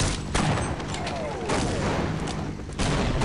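Enemies fire on the player in Half-Life, a dense and continuous rattle of gunshots with booming hits that lasts for a few seconds.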